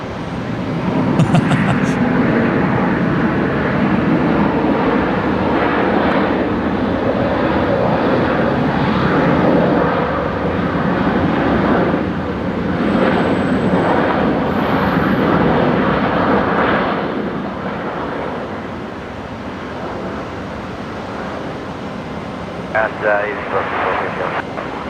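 A Virgin Australia Velocity Boeing 737-800 arriving from Melbourne and landing on runway 01 right at Brisbane at night, its engines a broad, steady roar that slowly fades as it rolls out, heard from a distance with a voice talking over it.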